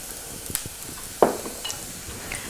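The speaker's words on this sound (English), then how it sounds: "And just saute it for 30 seconds to a minute or until you smell garlic hitting your nose." Chopped garlic sautéing in leftover butter in a pan, a soft steady sizzle with a few clinks and one sharp scrape of a utensil against the pan, and no talk.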